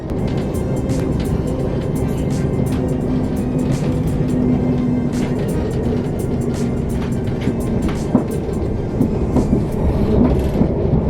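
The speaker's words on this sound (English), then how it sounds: "we're going to be on this train for about an hour and 30 minutes" Continuous rumble of a British passenger train rolling along the rails toward Cambridge, with rhythmic clicks and rattles, loud and steady throughout.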